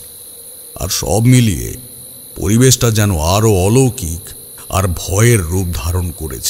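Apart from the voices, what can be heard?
crickets chirping at dusk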